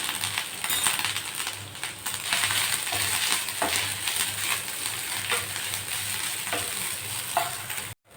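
Grated coconut, about a quarter cup, dry-roasting in a pan for a beaten rice laddu, giving a steady close sizzling crackle with faint scraping stirs throughout and no talk.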